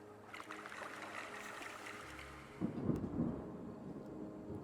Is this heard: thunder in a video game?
yes